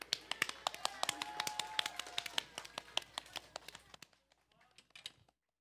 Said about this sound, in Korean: 다 같이 박수로 모셔보도록 하겠습니다.